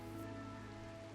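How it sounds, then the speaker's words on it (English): Rain falling in the colony-building game Rimworld, a soft, steady hiss of drops on surfaces, continuous and quiet with no talking over it. "And it's raining"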